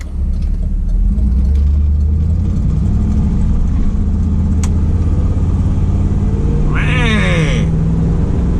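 A 1981 Pontiac Trans Am rumbles loudly up close as it rolls off, a deep steady engine drone with a brief rise as it pulls away, plus a short squeal near the end.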